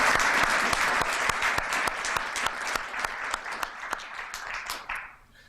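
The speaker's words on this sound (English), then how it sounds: "please join me in a round of applause for Valerie and her team" A round of applause from an audience at a school alumni awards presentation, with distinct sharp claps audible within the crowd, holding strong before thinning out and stopping near the end.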